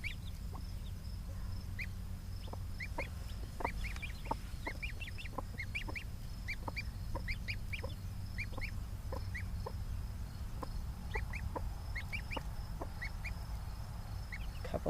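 A gosling and chicks peep constantly, many high, short chirps scattered in quick uneven bursts, close and moderately loud over a steady low hum, with no talking.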